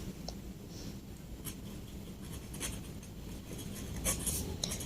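A pen scratches quietly across paper in short, faint strokes, writing an ending balance into an accounting statement, with soft scrapes in a quiet room.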